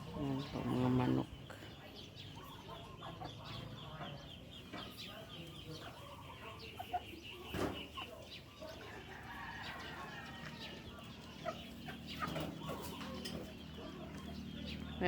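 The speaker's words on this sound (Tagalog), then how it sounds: "Ayan po, mga manok." Chickens cluck intermittently in a farmyard, with a louder burst at the start and scattered calls over a steady outdoor background.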